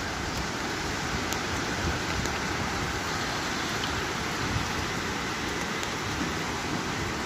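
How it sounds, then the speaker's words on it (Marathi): Steady, dense broadband roar of heavy rain with wind noise, continuous and loud throughout with no voices. "एवढा पाऊस आणि वारा आहे"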